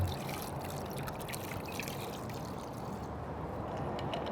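Cool water pours steadily over clams in a container, a soft continuous splashing and trickling at low volume with no voices.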